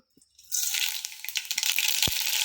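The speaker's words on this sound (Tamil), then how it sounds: "கடுகு பொரிக்கிட்டோம்." Mustard seeds crackle and sputter in hot oil, a dense continuous sizzle with scattered sharp pops, close and fairly loud, no voices.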